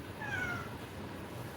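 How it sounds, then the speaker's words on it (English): A house cat gives a single short, rising meow indoors in a workshop, faint and fairly distant, followed by quiet room noise. "My cat Jones is also very excited, as you guys can hear."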